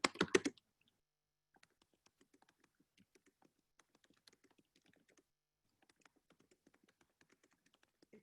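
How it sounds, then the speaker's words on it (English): Faint, sparse typing on a computer keyboard, with scattered soft key clicks coming in short bursts and pauses after a brief louder clatter at the start, heard alone in a quiet room. "let me just type out here"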